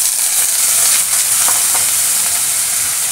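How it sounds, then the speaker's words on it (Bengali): Five-spice seeds and dried red chillies spit in hot oil with a loud, dense, continuous sizzle, a few faint spatters rising over the hiss and no voices. "যে তেলের মধ্যে 5 ফোড়ন আর শুকনো লঙ্কা দিয়েছি"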